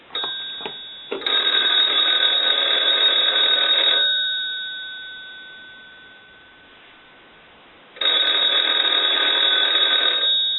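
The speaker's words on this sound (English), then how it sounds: "So we'll go ahead and ring the telephone." A Western Electric 233G three-slot payphone bell rings loud and close in two long bursts separated by a quieter decaying gap, with a few short clicks just before the first ring.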